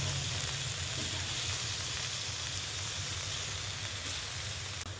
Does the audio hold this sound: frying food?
yes